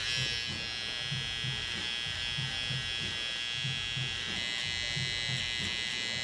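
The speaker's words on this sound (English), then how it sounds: "I can come in with the trimmer." An electric beard trimmer hums steadily and close up as a barber shapes a big beard, a constant high buzz with faint rhythmic pulsing and no talking.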